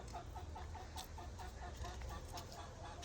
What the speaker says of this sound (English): there's my beautiful little Plymouth Rock hens